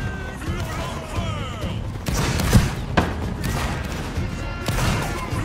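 Musket volley fire in a Napoleonic Wars video game battle, several sharp cracks and a heavier boom mixed into a steady din, with voices talking and shouting commands throughout.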